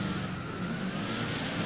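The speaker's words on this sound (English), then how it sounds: "this car sounds incredible" A supercharged car engine whines in the GTA FiveM video game, a steady, fairly loud droning roar with a high whine running over it, with no pause or talk.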